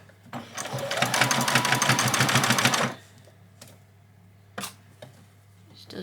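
A sewing machine stitches a row along an apron, running fast and steady for about three seconds before stopping. A few faint clicks and handling sounds follow in the quiet afterward.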